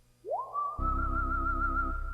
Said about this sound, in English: able to sample a whistle sound I was using there at the end